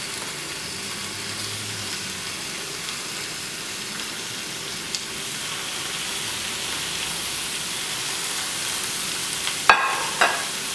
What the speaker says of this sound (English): I'm just going to place this trout seasoned side down in the pan